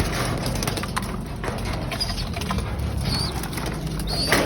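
Pigeons in a loft coo softly amid bursts of flapping wings, with short chirpy calls scattered over a steady background rustle.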